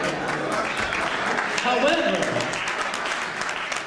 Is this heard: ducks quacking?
no